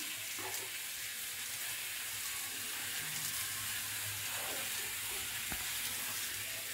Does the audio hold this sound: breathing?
no